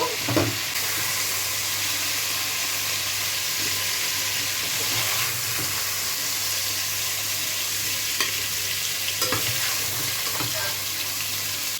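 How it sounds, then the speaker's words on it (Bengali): Chicken pieces frying in a pan for a Bengali chicken, potato and pointed gourd dish, a steady close sizzle with occasional stirring clinks and scrapes, no talk. "তাহলে বন্ধুরা দেখো, মাংসটা আমার ফ্রাই হয়ে গেছে।"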